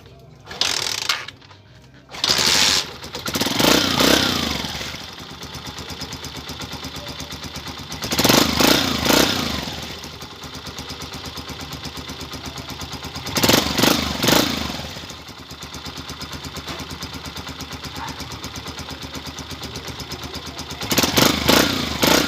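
A Honda TMX 125 motorcycle engine, with its fuel cock strainer just cleaned, idles steadily up close and revs in four short bursts spaced several seconds apart.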